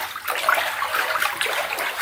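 A bath bomb fizzing in bath water, a dense, steady hiss of bubbling with faint watery crackle, close by and continuous with no voices.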